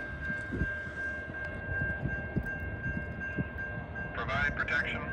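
CN freight train rolling past at close range, a steady rumble with rhythmic wheel clatter and a sustained high tonal whine, brief screeching squeals near the end.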